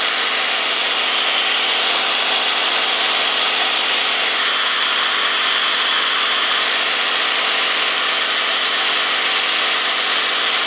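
An electric drill runs steadily on power from a fuel-less generator and inverter, a continuous loud high-pitched whine holding for about ten seconds without a break and with no talking.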